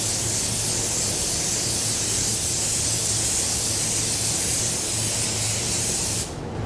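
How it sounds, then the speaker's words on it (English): A spray gun lays sealer onto a car panel ahead of a silver metallic base coat, a loud continuous close hiss that holds for about six seconds before cutting off. "first start off by spraying some sealer so that we have a nice uniform finish that is ready for our base coat"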